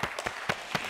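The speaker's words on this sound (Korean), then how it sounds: "우리 인사하고 들어갈 때 박수로 축복하겠습니다." A congregation at a Berlin mission church claps at the end of a Sunday service, a short run of faint, evenly spaced claps in a steady rhythm.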